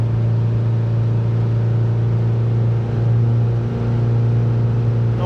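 A car engine climbs a long hill in steady low gear, a strong constant hum with a firm low drone that holds even throughout, close and loud, with no talking.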